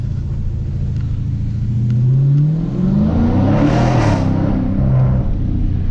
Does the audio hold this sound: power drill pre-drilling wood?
no